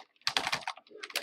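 Computer keyboard keys clatter in quick, uneven bursts as a game is played on keyboard and mouse, close and fairly quiet with a short pause in the middle.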